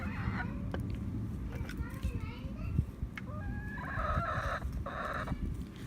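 Backyard hens cluck and squawk excitedly over a snack of blueberries and tomato, with several birds calling close by in overlapping bursts over a constant low background.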